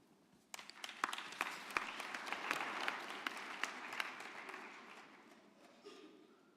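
Graduation ceremony audience applauding at a university autumn graduation, sharp close claps standing out over a dense wash that swells, holds, then gradually fades toward the end.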